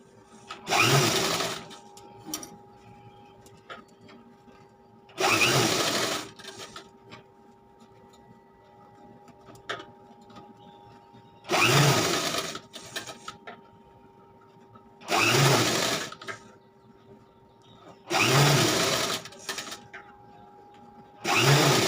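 A sewing machine runs in six short bursts while stitching a blouse seam, each whirring run of a few seconds separated by quiet pauses with a faint hum.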